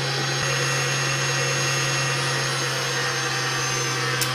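A household electric mixer whipping chocolate mousse whirs with a steady, loud, continuous hum that keeps an even pitch throughout and has no voices over it.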